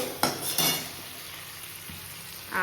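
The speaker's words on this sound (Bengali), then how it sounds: "তেলের মধ্যে পেঁয়াজ আর টমেটোটা ভাজা মোটামুটি হয়ে এসছে" Onion and tomato sizzle softly in hot oil while a spoon scrapes and clinks against the pan a few times.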